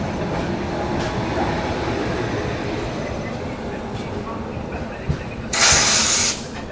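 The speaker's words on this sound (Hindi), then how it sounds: "अपनी जीटी एक्सप्रेस दोस्तों निकल चुकी है भोपाल जंक्शन से" The GT Express pulls out of Bhopal Junction, a steady rumble of rolling wheels and carriage noise heard from inside a 2AC coach, with a brief burst of hissing near the end.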